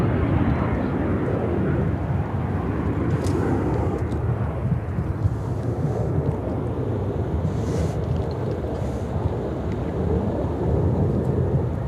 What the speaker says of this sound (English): United Airlines, 2635, taking off to Charlotte on the MAX 9.